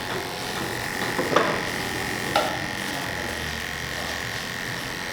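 Electric hair clippers fitted with an 08 detachable blade run in a steady, close buzzing hum while cutting hair for a mid bald fade, with a couple of brief louder bumps as the blade meets the head.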